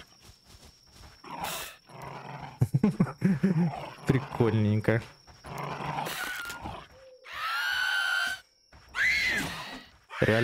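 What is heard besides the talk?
dog growling and attacking in video game DYSMANTLE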